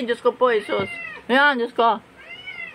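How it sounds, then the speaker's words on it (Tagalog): A cat meowing nearby in a home at lunchtime, several drawn-out, wavering meows mixed with a woman's excited speech, close and clear. "na may pusa sa aking tabi"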